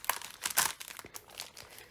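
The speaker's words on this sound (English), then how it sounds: "These are like just little plastic bags that you can put, like, you know, sweets in and stuff like that for Christmas." A thin plastic Christmas sweets bag crinkles in a quick series of close, crackly rustles over two seconds, with no talking.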